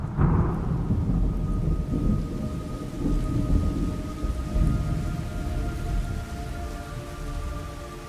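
Steady rain patters over a low rumble of thunder in the video game Metal Gear Solid Delta: Snake Eater, with a faint sustained tone humming in the background.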